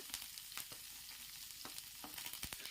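Onion, curry leaves and plenty of garlic fry in a pan for tomato chutney, a dense crackling sizzle broken by sharp stirring scrapes, close and fairly quiet, with no talking.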